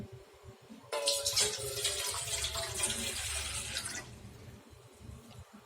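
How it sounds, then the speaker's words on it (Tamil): Water pours steadily into a pot for about three seconds, a bright splashing rush that starts abruptly and stops, with quiet room noise around it. "இப்போது பாத்திரத்தில் வந்து தண்ணி ஊற்றிக்கிங்க."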